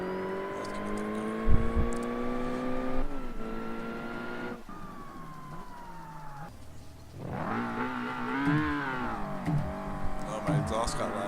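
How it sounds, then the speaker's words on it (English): Loud exhaust on a racing car in Forza Motorsport, the engine climbing and dropping through several revving sweeps and gear shifts, harmonic and close, with a brief thump early on. "My exhaust got loud."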